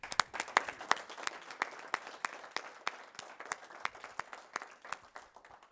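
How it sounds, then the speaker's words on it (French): Applause from a municipal council meeting audience for a speaker, a thin scattering of individual claps at an uneven pace, moderately distant and fairly quiet, with no voices over it. "On peut l'applaudir."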